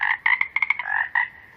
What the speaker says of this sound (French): Rebek, cela veut dire bonjour en langage de grenouille.